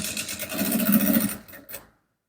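Sewing machine stitching a folded fabric piece for a top, a steady motor whir with a rapid needle pulse building over about a second, then slowing and stopping with a short final burst before silence.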